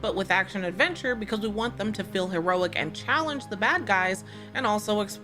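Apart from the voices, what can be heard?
No everyday noises stand out.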